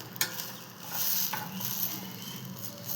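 Ghee sizzling steadily in a pan during frying, a soft continuous crackle with faint scraping from stirring, quiet and close with no talking.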